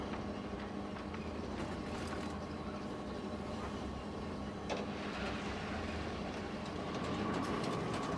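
Roller coaster train from Planet Coaster 2 running through downward-sloping track brakes, a steady dense rumble of wheels on rail with faint clicking, continuous and fairly close, with no talk.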